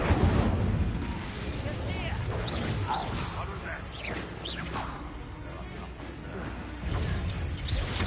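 Incendio fire spell cast during play of the Hogwarts video game, heard as dense whooshing, crackling bursts and rumbling impacts layered with other game effects and voices throughout.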